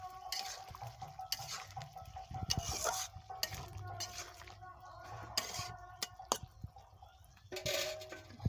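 Boiled vegetables being stirred with mustard paste in a pan, a spoon scraping and clinking against the metal in uneven bursts over a soft sizzle, with a few sharper knocks.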